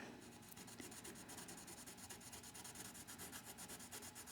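A colored pencil shades over paper with a close, quiet, rhythmic scratchy rubbing, quick back-and-forth strokes repeating steadily with no talking.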